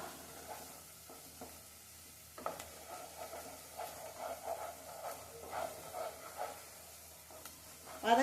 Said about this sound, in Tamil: மசாலா பொருள்லாம் போட்டு நல்லா எண்ணெயிலேயே நல்லா பிரிஞ்சு வர அளவுக்கு வதக்கி விட்டுறலாம்